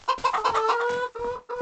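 Hens on a farm give a quick run of close, clear clucks and short squawks, loud and alone for under two seconds.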